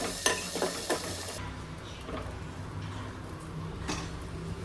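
Tempering for milk sambar spits and sizzles in hot oil at close range, a soft crackling hiss with a few sharp pops and stirring clicks.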